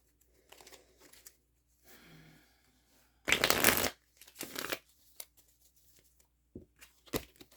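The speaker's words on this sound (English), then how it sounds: "the deck wants to be shuffled again" Tarot cards riffled and shuffled in several bursts, with a loud crisp flurry in the middle and shorter soft shuffles around it, close by.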